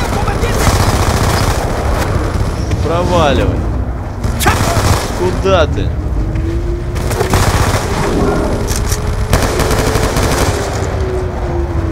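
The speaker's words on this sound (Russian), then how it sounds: "Пулемет еще где-то я слышу." Rapid machine gun bursts and scattered gunshots in a Call of Duty: Black Ops 2 battle, loud and close, with someone talking over the firing.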